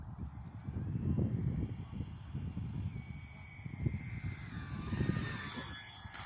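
Freewing Mirage 2000 80mm electric ducted-fan RC jet approaching to land, a distant whining turbine-like hiss that rises and falls as it passes, with gusty wind rumble throughout.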